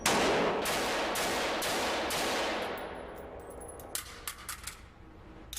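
Gunfire at a Federal Reserve police shooting range: a dense burst of rapid shots fills the first few seconds, then it thins to a handful of separate sharp cracks toward the end, moderately loud with no talk.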